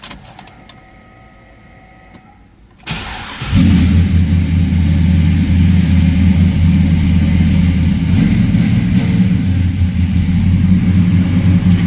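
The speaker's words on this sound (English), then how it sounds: "Let's go ahead and fire this up." A 1972 Oldsmobile Cutlass S with an LS engine cranks briefly after a quiet moment, then catches and settles into a loud, steady, close idle.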